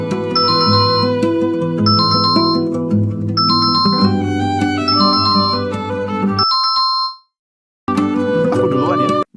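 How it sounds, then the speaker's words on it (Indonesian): A phone rings with a bright, repeating chime-like tone, loud and close, cutting off briefly before resuming. "mau angkat telepon"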